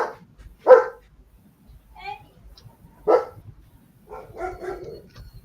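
Several dogs bark in sharp separate bursts, about three loud barks spread over a few seconds, mixed with some yips and soft voices in an otherwise quiet room.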